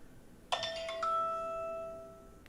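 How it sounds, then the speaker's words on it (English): A stock market opening bell rings as a bright chime, struck once and then again, its tones ringing out and slowly fading over a quiet background. "With that, that is the opening bell"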